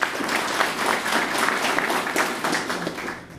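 Steady crowd applause fills a fire marshal plaque dedication ceremony, with brisk, continuous clapping from many hands throughout the short stretch.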